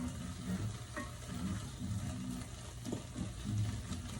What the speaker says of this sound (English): Let that saute for 2 more minutes.